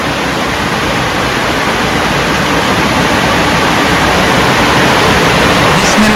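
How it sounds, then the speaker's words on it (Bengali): Heavy rain pours down in a village in Bangladesh, a dense, loud, unbroken hiss and patter filling the whole stretch with no voices. "এই যে দেখুন অনেক বৃষ্টি হচ্ছে আজকে, এরকম বৃষ্টি"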